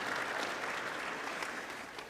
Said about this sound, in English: I heard some round of applause.